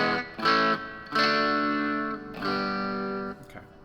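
Electric guitar played through an amp with a little reverb and a Joyo EQ pedal, ringing out in four distinct strummed chords, each sustaining and decaying, clear and alone.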